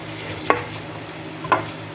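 Small pieces of camel meat fry in a pan for adobo sa asin with chili, a steady low sizzle broken by two sharp scrape-and-stir clatters about a second apart.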